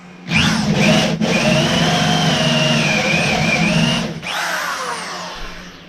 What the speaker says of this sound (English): here we go, drilling another hole